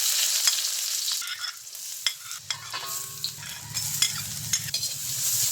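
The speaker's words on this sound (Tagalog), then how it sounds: "Gisa natin ng maigi mga ka-channel hanggang lumabas yung aroma ng bawang, sibuyas, luya at saka sili." Onion, garlic, ginger and chili sautéing in hot oil for beef rendang, with a steady sizzle under repeated scraping and stirring strokes of a utensil against the pan, close and continuous with no talk.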